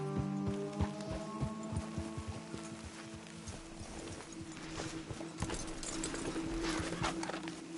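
Steady clip-clop of horse hooves walking on a hard surface in Red Dead Redemption 2, rhythmic and fairly close, with a low rumbling background throughout.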